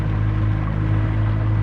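Outboard motor on a 2021 Lowe FM 1675 SC boat idling during its break-in period, a steady low droning hum with an even rumble held for under two seconds, no talk.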